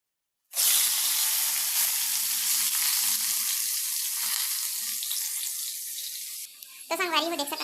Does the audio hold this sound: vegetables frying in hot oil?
yes